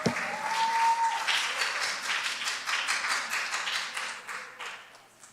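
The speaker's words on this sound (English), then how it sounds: "Let's go ahead and give him a round of applause as he comes up." A church congregation at a youth English service applauds, a dense wash of many hands clapping that holds steady for several seconds before thinning out toward the end.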